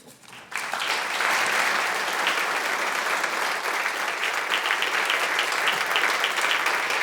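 Audience applause erupts at a Banff Centre talk welcoming filmmaker Guy Maddin, a sudden dense wash of clapping that stays loud and steady to the end.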